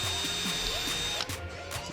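A power drill bores into a panel on a blacked-out Jeep Wrangler JK Unlimited, a loud continuous high whine lasting about a second before dropping off into lighter mechanical rattle, close and alone.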